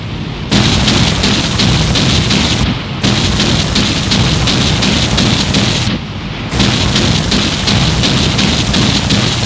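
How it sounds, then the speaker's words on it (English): A wartime warship's short range guns fire a sustained burst during target practice, a dense continuous rattle of rapid shots broken by two brief pauses, loud and close. "What now follows is a more serious target practice shoot of her short range weapons."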